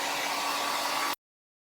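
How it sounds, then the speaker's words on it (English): A hair dryer blows steadily and loudly up close, drying paint on a farmhouse sign being redone, a constant whooshing hum with a faint motor whine that cuts off abruptly into silence. "hit these with the hairdryer real quick"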